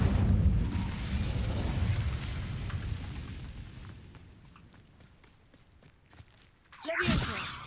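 Incendio fire spell cast in Hogwarts Legacy, a low whooshing roar of flame that fades over several seconds, followed by a sharp bright burst near the end.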